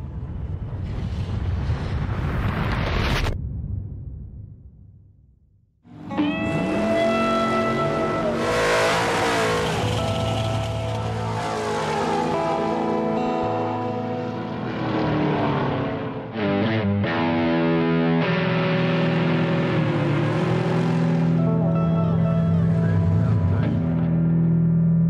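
Drag racing cars at a drag strip roar past loudly, engines revving and surging in long bursts with a brief lull between runs, open-air and close to the track.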